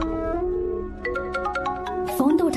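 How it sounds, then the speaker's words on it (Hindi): A mobile phone ringtone plays a short run of bright, repeating electronic tones over a musical film soundtrack, ending in a brief louder burst. "फोन तो उठा ले।"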